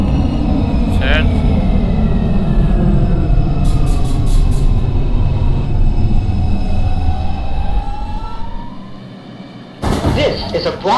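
New York subway 2 express train running toward the Bronx, a steady loud rumble of wheels and car noise with a rising and falling whine, brief squeals and rattles, and a few beeps.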